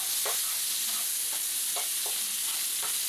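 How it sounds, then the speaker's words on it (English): Bacon frying in a pan, a loud continuous hiss and crackle with several spatula scrapes and flips spaced through it, close up. "Now, check on that bacon and flip it. This bacon's going to cook good and fast."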